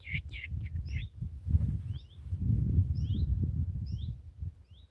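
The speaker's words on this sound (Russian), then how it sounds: "Вам слышно, как птицы?" Forest birds give short, high chirps scattered through the moment, fairly faint and distant, over a low rumble of nearby movement.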